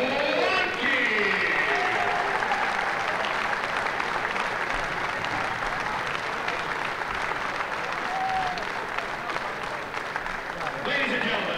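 A crowd at a college men's basketball game gives a loud, sustained round of applause for former coaches and alumni, with cheering mixed into the clapping and an announcer's voice over the arena.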